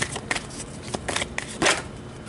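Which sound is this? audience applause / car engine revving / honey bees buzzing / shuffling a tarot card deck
shuffling a tarot card deck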